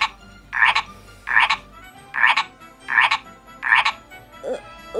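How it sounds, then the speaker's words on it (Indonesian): A frog croaks in five loud, evenly spaced rasping bursts, close by and alone, followed by a fainter short call at the end. "Si katak bangunin gue ya."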